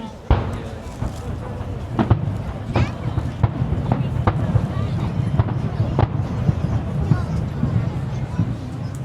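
Fireworks at a Yokohama, Japan fireworks festival pop and crack in a rapid, irregular series over a steady rumbling roar, with crowd chatter and voices underneath.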